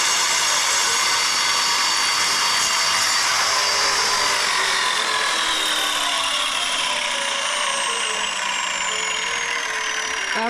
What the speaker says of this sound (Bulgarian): Това е от първите истински флексове, произведена в Ловеч.